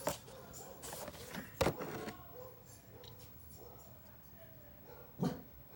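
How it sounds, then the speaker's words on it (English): Several dogs barking and whimpering outside, behind a room where collectible toy cars are shown, giving a few sharp yelps and short barks at moderate distance over background noise. "Apologize in advance for the dogs. Got some other dogs and some noise going out in the back."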